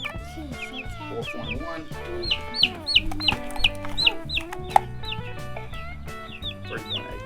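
Young meat chickens cluck and peep in a steady, fluttering chatter while being weighed, close and moderately loud, with a brief spoken number over them.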